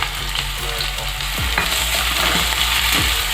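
Garlic and ginger paste fry with onion and chili in hot mustard oil, a dense continuous sizzle punctuated by a few clinks and scrapes of a spatula stirring the pan, with no talking.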